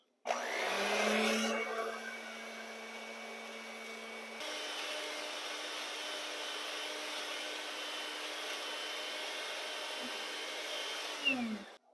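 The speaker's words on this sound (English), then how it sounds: "we're going to beat these 4 egg yolks" Four egg yolks being beaten with an electric mixer for key lime pie, a loud continuous motor whir that shifts to a different speed partway through, then stops with a short scrape near the end.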